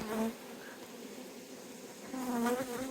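Honey bees buzz around a beehive, a steady droning hum with wavering pitches as individual bees pass close, moderately quiet and with no voices.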